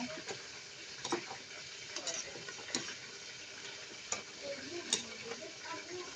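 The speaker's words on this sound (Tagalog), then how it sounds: "Pwede na natin ilagay yung ating repolyo. Haluin lang natin, maigi." Cabbage being stirred in a pan while cooking chop suey, heard as light scraping and scattered sharp clicks of the utensil against the pan over a faint, steady sizzle, with no talking.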